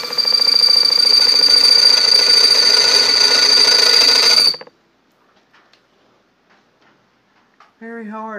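A drill bores holes in very hard steel from a lawnmower blade, giving a loud, steady, buzzing whine for several seconds before it cuts off into near silence. A voice briefly follows at the end.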